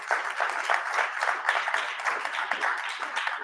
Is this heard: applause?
yes